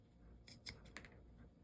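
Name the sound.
ROXON scissors cutting through paracord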